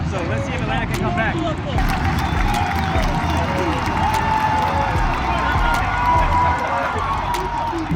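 Football stadium crowd at an Atlanta United match, a dense continuous roar of thousands of fans with cheering and a few sharp claps, loud and steady throughout, voices blending into the wash.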